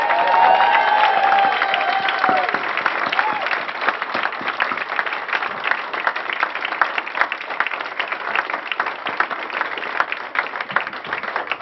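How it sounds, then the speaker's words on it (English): A graduation crowd gives sustained loud applause and cheering that fills the whole stretch, with dense clapping and shouts throughout and no pause. "Come on, one more big hand."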